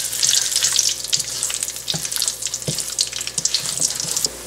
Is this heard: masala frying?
yes